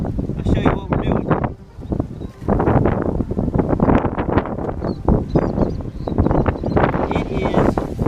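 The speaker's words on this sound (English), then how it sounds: "windy out here right now, like crazy windy" Strong wind buffets the microphone outdoors while someone fishes for flounder and croaker from the water's edge, a loud rumbling gusty roar rising and falling in bursts with rustling underneath.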